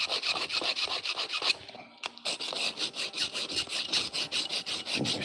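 Scissors drawn through a small pocket sharpener, a steady run of rapid rasping strokes, close and crisp, with a brief pause and a click midway before the strokes resume.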